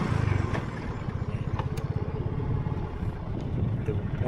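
A motorcycle engine runs close by at a steady idle, its low, rhythmic putter continuing throughout with faint clatter, and no other sounds stand out.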